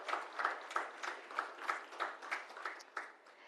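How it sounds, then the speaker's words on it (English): Applause from the audience at an interior design awards ceremony at the Taj West in Bengaluru, a moderately loud wash of clapping that swells in regular pulses for a few seconds. "Can we hear a big, big round of applause for all of you out here?"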